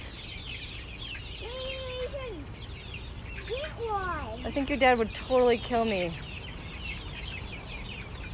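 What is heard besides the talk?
California white chicks cheeping at feed store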